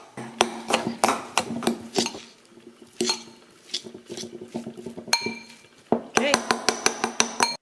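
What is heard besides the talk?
mixing tuna and cinnamon filling in a bowl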